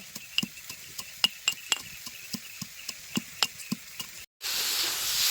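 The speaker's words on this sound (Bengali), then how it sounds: "এই হামাল দিশার মধ্যে করে দিয়ে আদা গুঁড়া করে নেবো" Ginger being crushed in a stone mortar (hamandista) for raw mango jelly: about a dozen sharp, irregular pounding knocks with ringing clinks, close and clear, ending in a brief gap and a steady broadband hiss.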